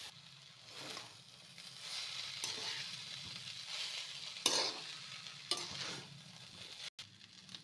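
Chowmein with chopped chillies stirred in a frying pan, steady sizzling with repeated scraping and tossing strokes of the spatula, close and fairly quiet, no voices.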